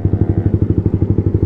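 A motorcycle engine revs hard and close, its exhaust chugging in a fast, steady pulse throughout.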